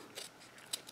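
Small scissors snip through excess cardstock during card making, a few quick, quiet cuts close by, with the last couple sharper and crisper.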